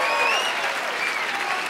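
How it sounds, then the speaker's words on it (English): A live audience applauds a man called up from the back of the room, with dense, steady clapping and a few shrill whistles over the top, running throughout. "Big round of applause for Simon"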